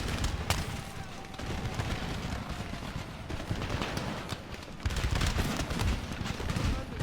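Musket infantry volley fire in the Empire Total War video game: a dense, sustained crackle of massed shots and battle din that runs the whole time, with a voice faintly present under it.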